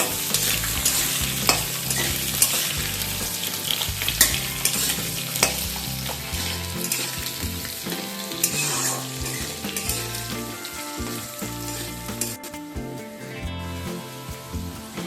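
Vegetables including radish sizzle in a pan over a medium flame while a spatula stirs them, a loud, continuous fry with repeated scraping and clinking throughout.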